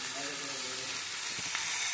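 Chicken frying in a pan with Kashmiri chili and chicken masala, a soft, steady sizzle with faint stirring scrapes near the end.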